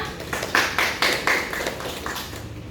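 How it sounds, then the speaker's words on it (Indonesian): Classroom applause for a group's presentation: several claps in an uneven, spreading patter, fairly close and loud, with no talking. "Berikan tepuk tangannya."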